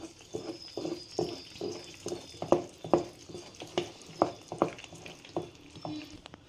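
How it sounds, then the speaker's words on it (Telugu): Ghee pongal with coriander being stirred in a pan, a series of soft rhythmic scraping strokes, close and clear with no talking. "ఇప్పుడు దీనిలోనే ఫైనల్ కొత్తిమీర అన్నీ వేసుకొని ఒకసారి మిక్స్ చేసుకుందాం."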